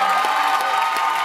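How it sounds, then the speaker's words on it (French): An evening concert audience applauds performers, including gospel singers and dancers, a bright continuous spatter of clapping mixed with scattered cheers and whoops, loud and sustained throughout. "Donnez l'applaudissement"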